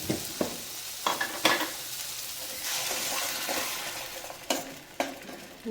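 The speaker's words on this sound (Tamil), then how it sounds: "நம்ம அரைச்சி வச்சுருந்த தேங்காயை ஊற்றிடலாம் அதில்" Ground coconut paste is poured into sautéed tomatoes frying in a pan, giving a steady sizzle broken by a few sharp scrapes and knocks of stirring, close and fairly loud, with no talk.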